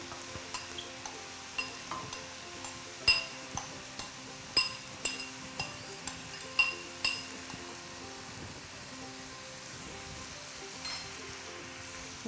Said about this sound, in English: I'm gonna give a stir to my carrots and milk.